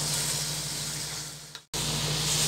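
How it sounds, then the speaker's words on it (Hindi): Mutton sizzles in hot oil over a high flame, a loud, steady frying hiss that cuts out briefly near the end before resuming just as strongly. "अब हम इसे 3 से 4 मिनट के लिए हाई फ्लेम में फ्राई करेंगे"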